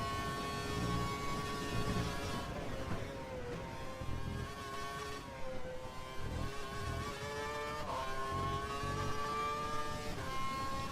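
Race car engine in a Silverstone racing video game, throttle applied early out of a corner: a sustained, loud, high whining drone whose pitch dips and then climbs again as the car accelerates, with no voices over it.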